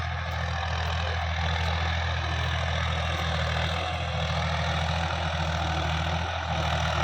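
A tractor engine runs steadily in a farm field, its low idling rumble and knocking hum continuous and fairly close, with no one speaking.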